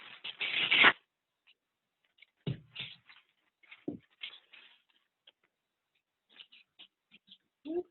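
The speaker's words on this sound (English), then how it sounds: "Let me take another piece of paper." A sheet of paper is picked up and handled during a design drawing session, giving quiet, scattered rustles and crinkles with a louder crumpling burst at the start.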